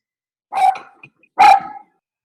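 A dog barks twice, close and sharp, with a short gap between the two barks and no talking.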